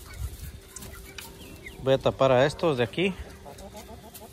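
Chickens in a farm coop being covered against the cold cluck near the microphone, their calls mixed with someone talking over them.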